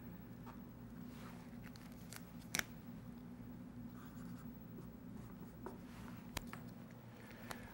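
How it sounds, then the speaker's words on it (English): Pen or pencil scratching as notes are written by hand, a faint steady scribble with a few sharp taps, quiet and close with no talking. "Let's go ahead and write this down real quick"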